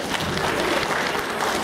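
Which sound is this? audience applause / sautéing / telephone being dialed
audience applause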